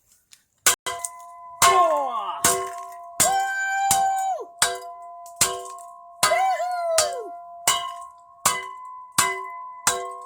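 A shovel repeatedly smashes knockoff toy cars, about a dozen sharp metallic clangs at an irregular, roughly one-per-second pace, each ringing briefly with bright tinny overtones, close and loud; a voice gives a short exclamation near the start.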